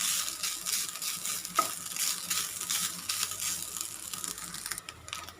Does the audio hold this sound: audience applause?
no